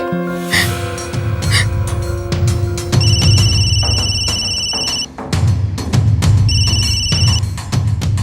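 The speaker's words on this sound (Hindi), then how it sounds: "हम जतिन को फोन करते हैं" A telephone rings in a tense Indian TV crime drama, electronic ringing bursts repeating in two separate spells over a busy background of movement and breathing.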